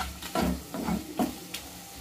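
Tomatoes with salt and cashews being stirred in a hot pan, a few soft scraping strokes over a low sizzle, close and brief.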